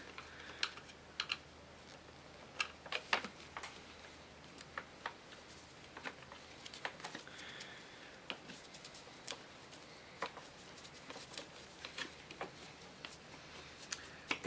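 A screw is slowly backed out of the plastic instrument cluster cover on a first-generation KLR 650, producing faint, sparse clicks and small ticks scattered over a quiet background.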